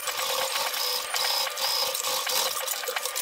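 A sewing machine stitching a stretched fabric face mask, a loud close mechanical whir with rapid needle clatter and a thin high whine rising briefly in short bursts.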